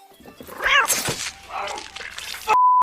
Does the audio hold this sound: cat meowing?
yes